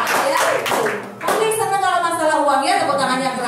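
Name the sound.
audience clapping loudly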